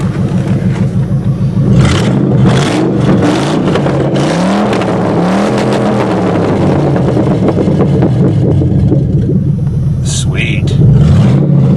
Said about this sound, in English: I got her running really smooth, and she's pretty quiet when you don't rev her